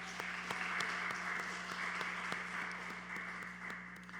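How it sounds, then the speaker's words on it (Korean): A Korean Wednesday worship congregation applauds to bless and encourage its praise team: steady, moderately distant clapping from many hands over a sustained low keyboard tone. "수요 경배 찬양팀 축복하고 격려하는 박수"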